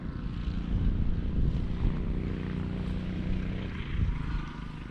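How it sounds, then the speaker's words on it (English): A big plane flies over the River Humber toward Immingham, a steady, loud low engine drone with a propeller-like throb that stays fairly constant throughout against outdoor wind. "That's a big plane, isn't it?"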